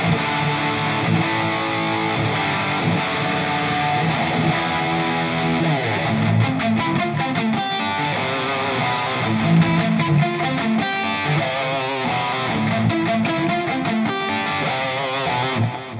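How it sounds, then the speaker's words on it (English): Electric guitar, an Eastwood Airline '59 3P DLX, played through an EVH 5150 overdrive pedal into a tube amp, giving a loud, continuous distorted passage of riffs and chords with steady strumming and no talking. "now we're going to pop on the EVH 5150 overdrive"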